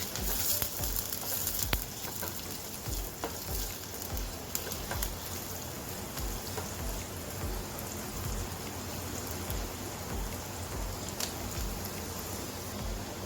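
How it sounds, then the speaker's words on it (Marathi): Finely chopped onion sizzling steadily in a hot pan for Punjabi paneer bhurji, a dense even crackle with occasional louder pops, no voices. "कांदा चांगला ब्राऊन होईपर्यंत परतून घ्यायचा"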